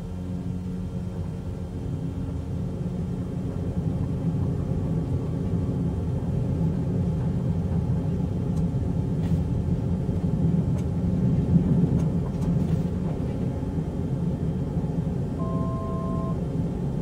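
Steady low engine rumble of a bush plane taking off in Microsoft Flight Simulator, with two flaps set, running continuously at an even, moderately loud level with no talk.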